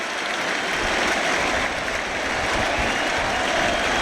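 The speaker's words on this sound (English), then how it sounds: "We're playing away, and they're giving me a nice hand." A stadium crowd at a baseball game between the Astros and Mets applauds a home run, a dense, steady wash of clapping and crowd noise at moderate loudness throughout.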